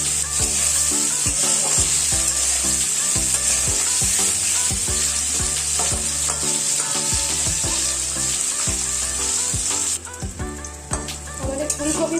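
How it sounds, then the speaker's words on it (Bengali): Cauliflower florets seasoned with turmeric and salt fry steadily in hot oil, a loud continuous sizzle punctuated by regular clinks of a spatula against the pan, easing slightly toward the end. "আমাদের ফুলকপি ভাজা হয়ে গেছে"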